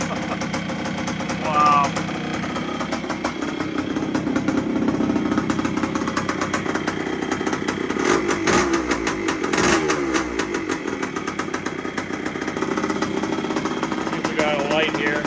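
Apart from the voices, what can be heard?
1973 Yamaha CT3 motorcycle engine idling after rebuild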